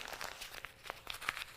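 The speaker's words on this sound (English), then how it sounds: "Now, when you're done creating, you're gonna have to crumple this up again." Paper treasure map for a kids' craft being crumpled up, a run of soft crinkling and crunching bursts close by, fairly quiet, with no talking.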